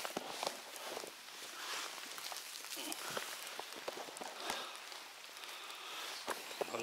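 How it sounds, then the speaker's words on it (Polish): Steady rain patters in a forest during mushroom picking, a dense hiss of drops on leaves and ground with scattered sharper taps and possible footsteps, moderately close and continuous. "coraz większy ten deszcz"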